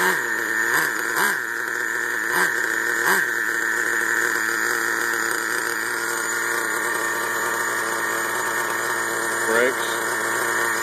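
A Traxxas Revo 3.3 nitro RC truck engine idles steadily and close, a high buzzing drone with a few brief revving blips near the start.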